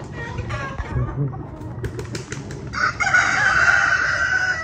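Round head hens on a farm: several chickens cluck and call close by, a rooster crows loudly in the second half, and someone speaks underneath at the start.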